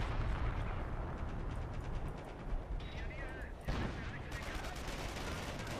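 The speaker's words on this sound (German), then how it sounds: "Jetzt läuft er sogar noch rein in die Artillerie" Artillery fire in the World War II strategy game Company of Heroes, a dense rumbling barrage of booms and distant blasts rolling continuously, with faint voice commentary underneath.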